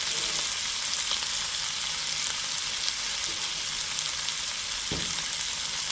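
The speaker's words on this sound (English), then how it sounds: "In with our ackee. We're also going to add our thyme leaf to the pot as well." Ackee and thyme leaves drop into a hot pot and sizzle steadily, a loud, even frying hiss close up with one faint knock near the end and no voices.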